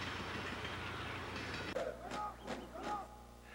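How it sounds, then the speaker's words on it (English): A train rolls along the tracks with a steady, dense rumble that shifts into lighter rhythmic clatter and squeals partway through, moderately loud and without speech. "spectacular train rides"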